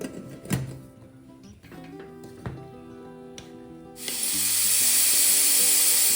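A few metallic clinks and ringing tones, then a loud, sustained hissing whistle of steam bursting from a pressure cooker of vegetables and continuing.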